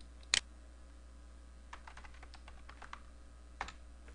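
Keys on a computer keyboard tapped in a quiet room, a loud click near the start followed by a scattered run of soft keystrokes and one more distinct tap near the end.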